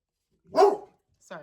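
A dog gives a single loud, close bark, followed a moment later by a shorter, fainter bark or yip.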